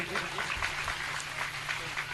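An audience at a Shrimad Bhagavat Katha gathering applauds a guest and his wife, steady enthusiastic clapping throughout at moderate distance, with a voice speaking over it.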